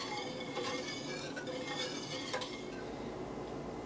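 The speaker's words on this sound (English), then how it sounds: "give it a good whisk" A whisk scrapes and clinks steadily against a metal pot of milk heating toward a boil, a continuous close rattle of metal on metal with no voices.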